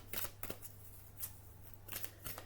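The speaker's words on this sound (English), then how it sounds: "These are big cards to shuffle too." Large cards are shuffled in quick riffling bursts, with soft papery flicks and pauses between them, close and fairly quiet.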